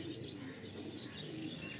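Pigeons coo softly in a loft, faint, low, rounded calls that repeat among light chirps and background rustle.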